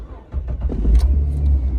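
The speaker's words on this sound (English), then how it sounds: "And it starts." A Jeep Cherokee XJ 4x4 engine cranks and catches after a transmission neutral safety switch replacement, a brief close starter whir rising into a steady low idle rumble.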